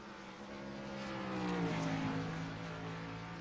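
Race cars roaring around Sonoma Raceway in the iRacing sim, engines rising and falling in pitch as a pack passes, loud and close with no talk over it.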